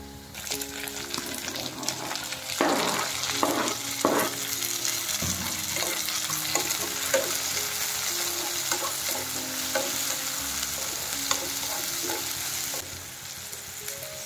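Onions and tomatoes fry in a pan, a steady close sizzle with a spoon scraping and stirring through the mix in clustered strokes, no talk over it.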